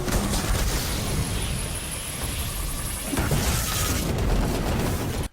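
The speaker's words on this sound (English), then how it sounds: "That was your clue that the walker was about to spray an epic ton of rockets at you." Destiny 2 walker tank in the Hollowed Lair Nightfall charging up before unleashing a rocket barrage: a dense, roaring mechanical rumble with booming bursts, loud and sustained throughout amid game combat noise.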